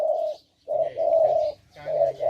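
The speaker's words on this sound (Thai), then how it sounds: "น้องเขากำลังจะ เอานก มาจวดให้ฟังนะครับ" A spotted dove, a trained decoy bird, coos in close, clear phrases: several deep, hollow notes in a repeating rhythm with a short pause between bursts, alone without talk.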